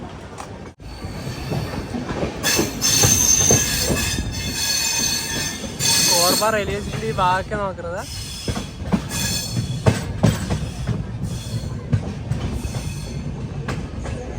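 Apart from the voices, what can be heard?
express train arriving at Korba station, wheels squealing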